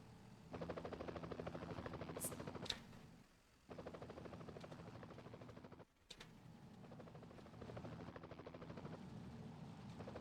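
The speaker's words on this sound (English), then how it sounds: "Wonder if I can send the helicopter in." Helicopter rotor chopping steadily in a Power & Revolution 2023 strategy game, a continuous throbbing whir that briefly drops out twice before resuming, with no talk over it.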